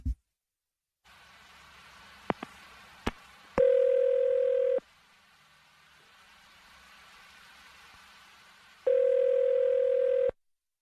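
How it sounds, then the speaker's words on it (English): A few clicks of a phone line, then two long ringback tones several seconds apart over a faint steady hum, with no one talking. "I'm going to dial her phone right now."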